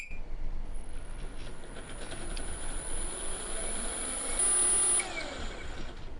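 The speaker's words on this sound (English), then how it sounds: "Just running the motor detection tool for the 6374 motor and the Flipsky waterproof controller" A Flipsky 6374 electric motor on a waterproof controller at 12S gives a steady, whining hum with a high tonal whine throughout, rising briefly louder near the end, with no talking.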